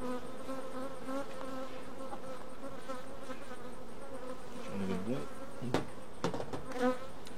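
A steady, dense hum of many honeybees buzzing close up in a hive, continuous and even, with a brief spoken remark and a few soft knocks near the end.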